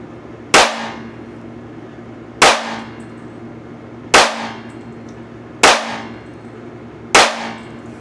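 Five loud, sharp gunshots fired from a Smith & Wesson M&P FPC 10mm carbine with 180 grain Magtech ammunition, spaced about one and a half seconds apart, each ringing out with a short decaying echo and no talking.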